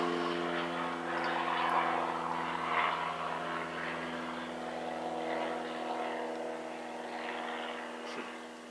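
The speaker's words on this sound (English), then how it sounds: "Airplane." A propeller airplane drones steadily overhead, a broad continuous engine hum with a low buzzing tone that holds at moderate loudness throughout, with no voices over it.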